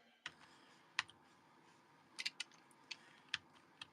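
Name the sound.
computer keyboard keys being slapped while typing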